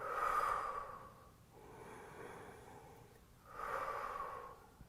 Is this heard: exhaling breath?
yes